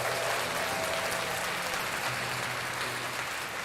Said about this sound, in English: I'm going to give myself a round of applause.